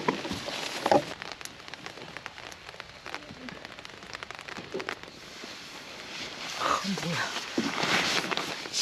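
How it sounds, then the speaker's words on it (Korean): Heavy rain pouring down at a solo campsite, a steady broadband wash of drops hitting surfaces that swells louder toward the end, with scattered sharp impacts and a person laughing and talking over it. "갑자기 비가 많이 쏟아지네"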